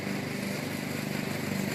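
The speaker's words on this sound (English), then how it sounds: "Pause for the lawnmower." Lawn mower engine droning steadily nearby in a garden, a constant buzzing hum with no pauses or talking.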